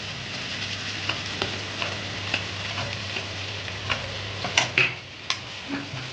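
Potatoes stirred into a pan of mutton curry give a run of light, regular ticking scrapes over a soft low sizzle, with a few louder clatters near the end, close and without talk.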